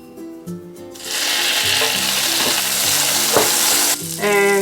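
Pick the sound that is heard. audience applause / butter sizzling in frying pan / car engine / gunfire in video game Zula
butter sizzling in frying pan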